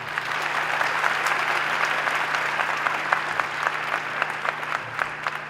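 Audience applause at a STEM higher education conference, steady dense clapping from a crowd filling the room without pause, with a faint low hum underneath.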